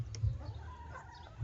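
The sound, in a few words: backyard chickens (hens) clucking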